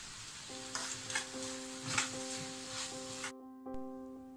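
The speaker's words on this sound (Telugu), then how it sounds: "నెక్స్ట్ కొద్దిగా కొత్తిమీరను కూడా యాడ్ చేసుకుని ఫ్రై చేసుకోవాలి" Pepper chicken with coriander frying in a pan, a steady close sizzle with soft stirring scrapes and a few spoon knocks, under a faint steady hum, cutting out abruptly near the end.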